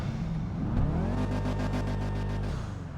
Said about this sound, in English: very similar exhaust engine sounds to the Sultan series